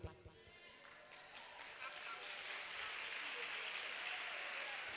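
A church congregation claps, the applause swelling into a steady, fairly faint wash of hand claps after a few scattered beats.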